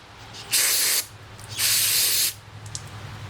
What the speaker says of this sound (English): spray down in there.